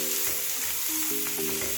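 Shrimp fried rice with kimchi sizzling in a pan, a constant bright fry hiss with a few scraping stirs, while a steady tonal hum runs underneath, close and moderately loud, no speech.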